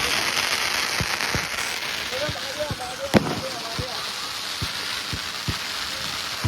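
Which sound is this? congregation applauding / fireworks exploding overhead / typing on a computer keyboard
fireworks exploding overhead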